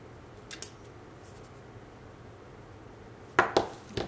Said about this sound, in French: Alors moi, je fais une coche